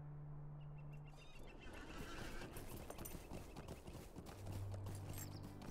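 Hoofbeats of a galloping horse with whinnies while riding in Lord of the Rings Online, steady clip-clop rhythm throughout, moderately loud, with no talking.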